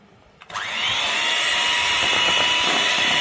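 Electric blender churns flour into homemade cake batter, switching on abruptly and holding a loud, steady motor whir for about three seconds close by, with no talking.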